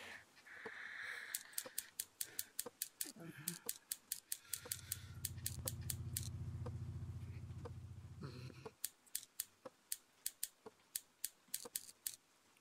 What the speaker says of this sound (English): so I need the scissors there